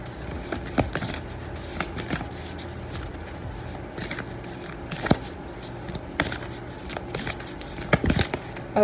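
Tarot cards being shuffled by hand during a collective reading, giving soft repeated riffling and flicking close to the microphone, with brief sharper snaps over a low background hum.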